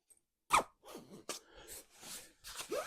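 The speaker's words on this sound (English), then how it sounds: "All right, so I'm gonna zip it up and stuff it back in the bag." Zipper on a Teton four-season sleeping bag being pulled closed, a sharp zip burst followed by several shorter ragged zipping strokes with fabric rustle, close and fairly quiet.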